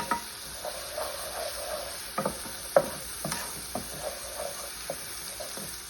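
Garlic frying in a pan and stirred with a utensil, a steady low sizzle broken by scattered scraping and clinking stirs, close and without talk.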